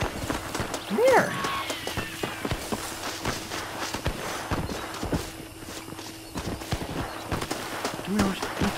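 A horse in the video game Red Dead Redemption clip-clops on hooves and lets out a short whinny, steady footfalls heard near alongside someone talking.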